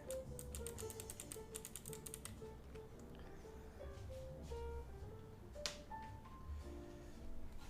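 Fast, irregular keystrokes on a wired computer keyboard at a streamer's desk, quiet and close, in a quick run of clicks followed by scattered taps over a low background hum.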